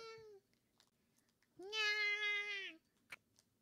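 A high voice imitates a cat meowing during an Apex Legends session: a short meow, then a longer, louder drawn-out meow about a second later, clear and close.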